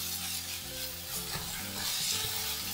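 Tomato sauce is sautéed in a pan while a Kerala prawn fry is prepared, making a close, continuous sizzle with busy stirring and scraping throughout.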